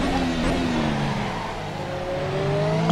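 A Formula 1 race car from an F1 mod for Assetto Corsa, racing at the Bahrain Grand Prix, screams at full throttle, its engine pitch rising steadily under a loud, continuous roar with no talking.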